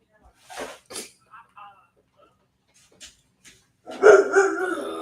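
A dog barks indoors in a short burst of several loud barks near the end, following scattered bits of quiet talk and noise.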